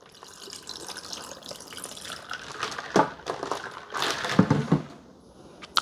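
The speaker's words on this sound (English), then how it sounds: "Now let's pour ourselves some iced tea." Iced tea poured from a pitcher into a cup already holding ice, a soft trickle growing into brighter splashing and clinking over several seconds, close and fairly quiet.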